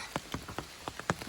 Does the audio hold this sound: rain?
yes